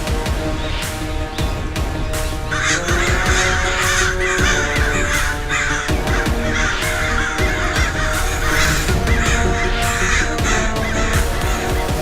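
Wild crows caw repeatedly and loudly, several birds calling over one another in harsh overlapping bursts that continue steadily from start to finish.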